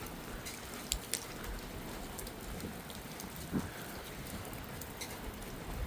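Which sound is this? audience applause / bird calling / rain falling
rain falling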